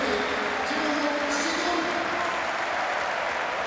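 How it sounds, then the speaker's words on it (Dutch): Football stadium crowd at a PSV versus AZ match, a steady broad wash of applause and crowd noise filling the stands, continuous and fairly loud for a few seconds. "Applaus voor Jan Vennegoor, of Hesselink is terecht."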